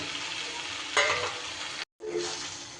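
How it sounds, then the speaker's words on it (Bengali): Fried pointed gourd (potol) is stirred into spice masala in oil, giving a close sizzling hiss with a brief louder scrape of stirring and a short gap of silence near the end. "পটলগুলো আমি মশলার সাথে সুন্দর করে নাড়িয়ে চাড়িয়ে মিশিয়ে দিয়েছি"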